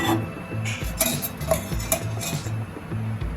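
A metal bowl set on a gas stove and shifted about, giving close clinks and scrapes of metal on the grate over a low, rhythmic hum from the burner.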